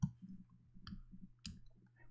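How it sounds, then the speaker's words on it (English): Computer keyboard key presses during a design software session, a few faint, sparse clicks and taps over low background hum, with no voices. "I'm going to press O from the keyboard and press shift to create a circle like so."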